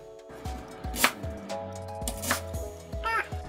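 A knife dices half a large onion on a cutting board, giving a few sharp, crisp chops spaced about a second apart over steady background music.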